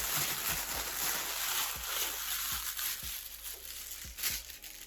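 Close, rustling crinkles of a plastic bag inside another bag being handled while unpacking a lost parcel, with irregular crackles and soft bumps at a low, steady level.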